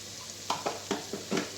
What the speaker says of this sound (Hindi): ये डाल के हम भून लेंगे।